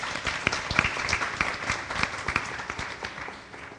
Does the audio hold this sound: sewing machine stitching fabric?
no